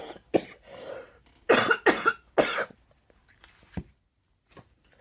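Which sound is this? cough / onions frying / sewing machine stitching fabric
cough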